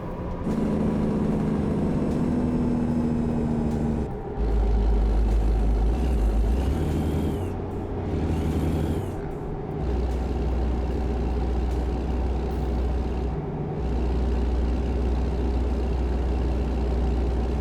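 A heavy truck's engine drones steadily in American Truck Simulator, with loud low rumble throughout and a short swell and whoosh around the middle as another truck passes on the highway, no talk over it.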